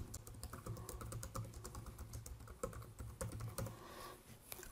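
Fingers typing a message on a computer keyboard, a quick, uneven run of soft key clicks heard close and quiet, continuous for several seconds with brief pauses and no talking.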